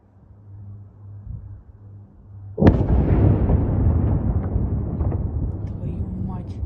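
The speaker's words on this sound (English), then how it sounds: "you can hear that massive explosion" A glide bomb strike in Kharkiv, Ukraine, at night: a low background hum gives way to a sudden, massive near blast, followed by a long, heavy rolling rumble, while people speak around it.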